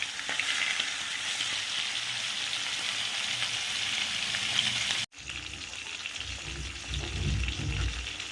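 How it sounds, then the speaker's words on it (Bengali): Fish sizzles steadily in hot oil in a wok, a loud, continuous crackling fry that cuts out briefly partway through and then resumes with a deeper bubbling. "একে একে মাছগুলোকে ভেজে নিই।"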